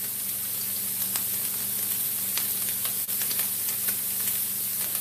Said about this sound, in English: So we're just going to brown this